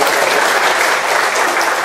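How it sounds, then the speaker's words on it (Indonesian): A church congregation bursts into loud, dense applause, a continuous wash of clapping heard up close and alone. "Pak Stefanus Suwarno, kita tepuk tangan"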